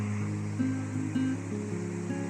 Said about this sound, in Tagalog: At iyan po ay ilog.